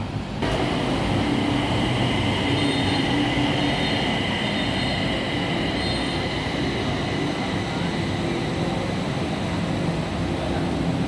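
A BTS Skytrain pulling into Mo Chit station, a loud continuous rumble of the rail cars with faint high wheel squeals and whine, steady throughout with no talk.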